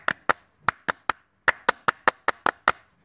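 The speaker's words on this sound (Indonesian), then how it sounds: "Tepuk tangan, tepuk tangan." A single person claps about a dozen times in an uneven rhythm, each crisp, close, sharp clap separated by brief silence.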